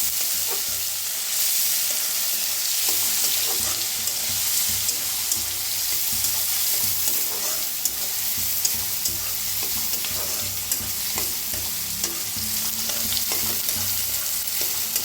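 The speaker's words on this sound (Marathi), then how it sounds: "हिंग, कांदा एक कापून घेतला होता ते, कांदा आता भाजून घेऊया चांगला" Chopped onion with asafoetida sizzles and fries steadily in a pan, a dense crackling hiss with occasional stirring scrapes, close and alone without talk.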